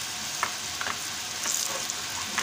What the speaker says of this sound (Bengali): দেখেন এই যে আমি মাখন দিচ্ছি